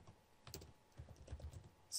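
Soft, scattered keystrokes on a computer keyboard while entering C# code, quiet irregular taps in short bursts with no talk.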